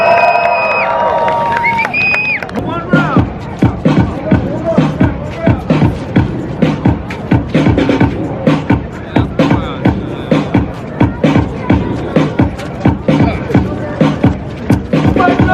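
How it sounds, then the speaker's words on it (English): A street breakdance show crowd in Times Square claps in a loud, steady rhythm with scattered cheers, after a brief shouted voice over the opening seconds. "Clap your hands and make some noise!"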